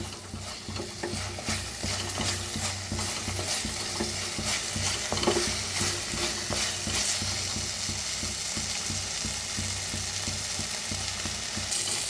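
Masala being roasted with a little coriander in a pan for shev bhaji, a continuous sizzle under frequent scraping stirs of a spoon throughout.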